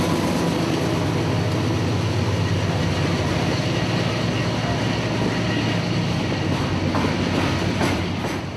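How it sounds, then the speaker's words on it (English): A CSX freight train of loaded rock hoppers rolls past near Tallahassee, a loud continuous rumble with steady wheel clatter and rail noise throughout, fading slightly at the end. "First catch of the morning is this rock train emerging from a crew change out of Tallahassee's B yard."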